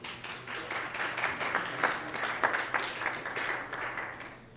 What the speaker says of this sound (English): Why is he getting a round of applause?